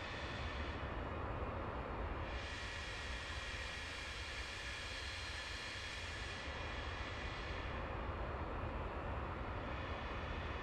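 Charter jet engines in flight during an approach to Newark, a steady loud broadband roar as heard inside the cabin, continuous with no voices.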